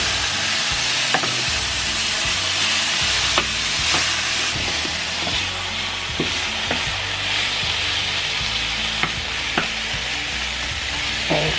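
Meat browning in a pan makes a constant loud sizzle, punctuated by sharp spatula scrapes and taps at irregular intervals, close up with no voices.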